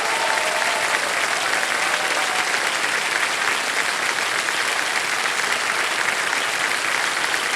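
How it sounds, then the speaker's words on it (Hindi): Studio audience on a TV quiz show breaking into dense, sustained applause that stays loud and steady from start to finish, with no voices over it. "सब लोग तालियां बजा दें जोरों से इनके लिए"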